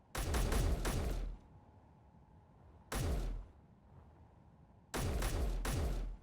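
Weapon fire in the space game Space Engineers comes in three loud, separate bursts of rapid shots, with quieter mechanical hum between the volleys.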